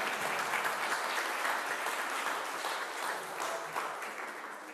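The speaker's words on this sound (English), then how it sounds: "okay, we can clap." Audience applause fills a hall at an evening celebration event, steady clapping from many hands sustained throughout, loud and continuous with no talk over it.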